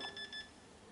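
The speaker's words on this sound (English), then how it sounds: "There's the beep." A Digitrax DCS 210 DCC command station gives a few short, high-pitched electronic beeps in quick succession as it powers on, then falls quiet.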